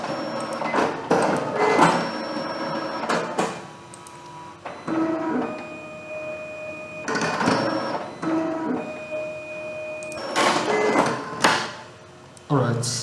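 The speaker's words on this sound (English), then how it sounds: "The printing has already started." Card printer printing a student ID card, a series of mechanical whirring and sliding passes with brief tonal whines and pauses, close by, with someone talking intermittently.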